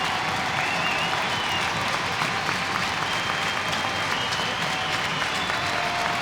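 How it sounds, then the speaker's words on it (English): A home crowd at a Sheffield Steelers ice hockey game in the EIHL applauds and cheers a player, a steady, dense wash of clapping and crowd roar filling the arena throughout. "A final cheer for the home crowd to Tom Barrasso"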